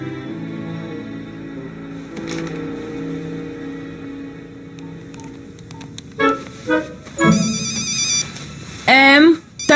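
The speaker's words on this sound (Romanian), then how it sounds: "Em, telefonul." An indoor telephone rings in a steady, repeated electronic tone under a music bed, then sharper sounds and voices break in toward the end.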